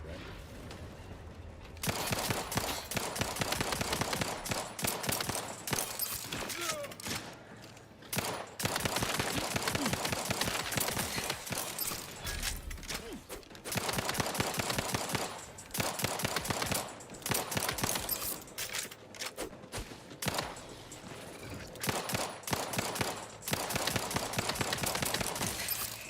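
Sustained automatic gunfire from The Outer Worlds 2 video game, loud dense bursts of rapid shots continuing almost without pause, with brief gaps between volleys.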